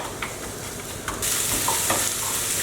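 Chopped garlic and onion go into a pan to cook gently, with a soft sizzle swelling as they hit the oil, plus a few light stirring clinks, close and without talk.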